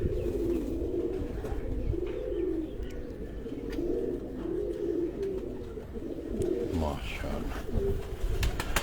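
Pigeons at a home loft coo in repeated low, rolling phrases close by, with a brief chirp near the end and faint background noise.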